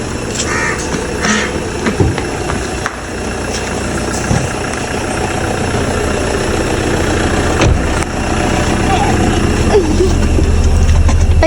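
A car engine idles steadily and fairly loud throughout, with a couple of faint thumps and distant crow caws in the background.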